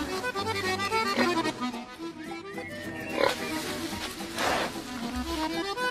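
A trained truffle-hunting pig grunts in low, repeated snorts, heard softly beneath steady background music.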